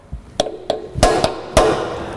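A hammer strikes a centre punch on a rounded-off retaining bolt during rear disc and brake pad work on a Land Rover Discovery 2 TD5, five sharp metallic taps at uneven intervals, close and clear.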